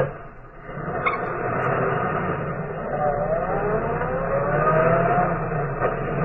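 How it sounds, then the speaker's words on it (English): A car engine cranks and catches, then revs with a steady, rising whine, heard close and fairly loud with no one talking over it. "Now I'll start the car."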